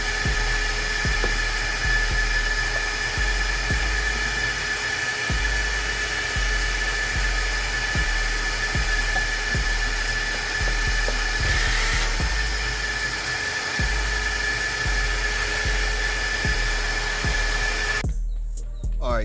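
A vacuum cleaner runs loud and close with a steady high whine and faint rhythmic ticking, then cuts off abruptly near the end.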